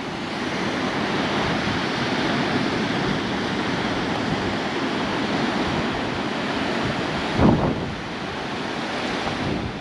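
Incoming tide surf at Point Reyes National Seashore, a steady roar of breaking waves with wind buffeting the microphone throughout and one brief louder gust or wave burst near the end.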